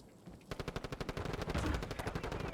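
Rapid automatic gunfire from Call of Duty Black Ops 6 rattles in a fast, even burst of shots, starting after a short pause and continuing steadily, moderately loud and without talk.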